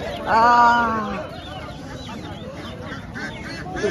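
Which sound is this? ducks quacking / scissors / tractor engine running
ducks quacking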